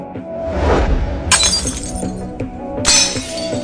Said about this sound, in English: the civilians smashed the president's portrait to pieces right on the spot